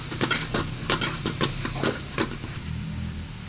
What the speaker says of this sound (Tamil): இதுவும் எண்ணெயில் பார்த்திங்கன்னா நல்லா வதங்கணும். ஒரு வாட்டி நல்லா மிக்ஸ் பண்ணி வதக்கிக்கலாம்.